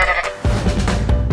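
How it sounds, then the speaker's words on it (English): A single goat bleat rings out clearly, wavering and nasal, then trails off, with a second shorter bleat near the end. "Goat."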